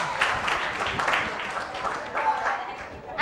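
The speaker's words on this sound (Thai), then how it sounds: "ชอบใจไหมปรบมือหน่อย" A class of students clapping in a Thai chemistry lesson, a broad steady patter of hands lasting a few seconds at moderate volume, with some voices mixed in.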